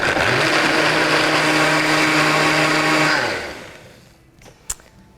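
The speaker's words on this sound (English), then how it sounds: "Toss it right in the blender." A kitchen blender whirring through fresh lemons, sugar and water for creamy lemonade: a loud, steady motor drone for about three seconds that winds down to quiet, followed by a sharp clack.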